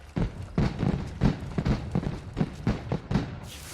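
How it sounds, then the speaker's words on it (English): Fireworks display in the video game Assassin's Creed Rogue: a steady run of muffled booms and crackling bursts, roughly two or three per second, moderately loud and close, with no talk over them. "Those fireworks are truly impressive, I must say."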